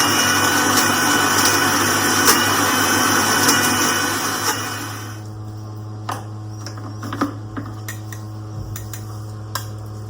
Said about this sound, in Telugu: వేసుకొని మిక్సీ పట్టేసుకోవాలన్నమాట.